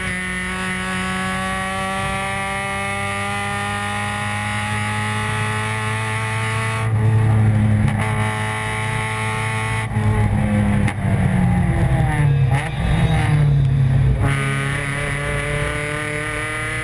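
Spec Racer Ford race cars run on a circuit: a steady, loud engine drone with shifting pitch as cars pass and rev, surging louder in several passes, with no talk.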